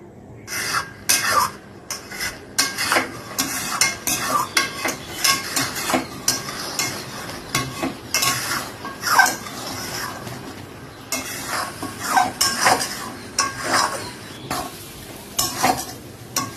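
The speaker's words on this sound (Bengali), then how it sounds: "কষানোর পর বুট দিয়ে তারপরে আবার কষাচ্ছে" Onion, ginger, garlic and chickpeas sautéing in oil in a pan for ghugni, with steady sizzling and frequent scraping, stirring strokes of a utensil against the pan, close up and continuous.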